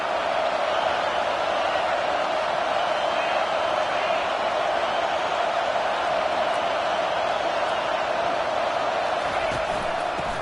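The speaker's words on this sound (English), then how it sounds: "This crowd knows when to bring it." A stadium crowd in the College Football 25 video game roars in a constant, dense wash of cheering that holds steady throughout, loud and unbroken.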